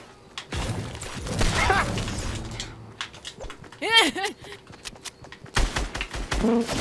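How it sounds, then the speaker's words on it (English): Gunfire in the Fortnite battle royale video game, bursts of shots scattered through the clip alongside bright chirping game effects, with players talking over the action. "We're shooting."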